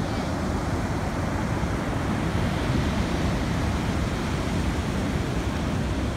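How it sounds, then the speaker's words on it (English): Big ocean waves break and roll on the beach at Carmel, a steady, loud, continuous roar of surf that fills the whole stretch without letup. "let's see the big waves"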